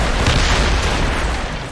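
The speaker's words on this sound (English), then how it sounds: "They're firing mortars!" Mortar fire in a naval battle in Assassin's Creed Rogue, a dense rumbling barrage of booms and bursts filling the whole stretch, loud and continuous with no voices.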